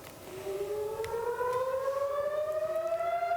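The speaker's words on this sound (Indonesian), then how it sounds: "Raungan sirene memenuhi udara kawasan Beersheba dan sekitarnya" An air raid siren wails over Beersheba, Israel, during a missile attack, its tone rising steadily in one loud, continuous sweep with no voices.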